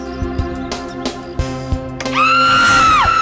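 A woman lets out a sudden, loud, sustained scream in a Hindi TV crime drama, rising sharply after a series of dull thuds and knocks.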